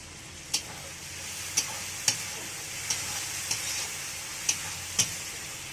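Spice paste of chili powder, turmeric and tomato frying in a pan, a soft steady sizzle with about seven crisp spatula taps at regular intervals, no voices.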